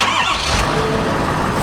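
A 2020 Ford F-450 Super Duty King Ral Ranch pickup's engine cranks on electric start and fires up, a short loud burst of starter whir and engine catch heard up close, with no talking.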